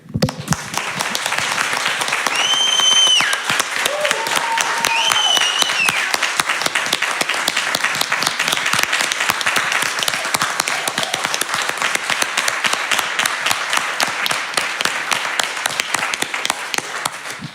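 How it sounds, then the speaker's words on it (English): A congregation applauds during a Sunday church service, long sustained clapping from many hands with a few whistles early on, continuing steadily for the whole stretch. "we're going to give you some huge applause to Andrea."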